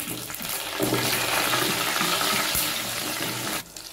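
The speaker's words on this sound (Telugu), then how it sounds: "ఆయిల్ వేడిన తర్వాత జీలకర్ర, ఆవాలు, 2 ఎండుమిర్చి, పచ్చిమిర్చి తినేవాళ్ళు ఇట్లా చీలి వేసుకోండి." Cumin, mustard seeds and dried and green chillies frying in hot oil, a steady loud sizzle and crackle that runs close and continuous for several seconds before cutting out near the end, with no talking.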